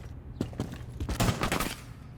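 A short volley of gunshots fired through a wall in a competitive video game shooter, several quick cracks clustered together mid-clip, moderately loud against a low background hum.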